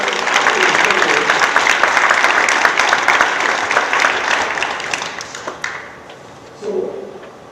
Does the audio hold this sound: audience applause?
yes